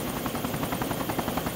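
A helicopter in the video game Arma 2 DayZ, a loud steady rotor drone with rhythmic blade chop filling the brief clip, with no voices over it.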